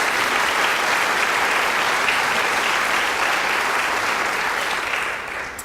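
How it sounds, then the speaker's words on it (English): Audience at a school district Teacher of the Year awards ceremony gives a round of applause, a loud, even roar of many clapping hands that holds steady and only begins to thin in the last moment. "Let's give them a round of applause"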